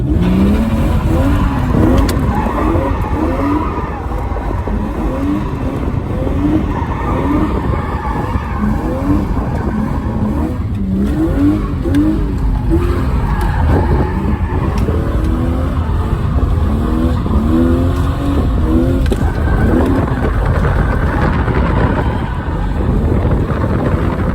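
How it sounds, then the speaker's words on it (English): A cheap car drifts around a patch, its tires skidding and squealing in wavering bursts over a loud engine drone and heavy wind buffeting close to the microphone, with no talk. "drifting around this patch"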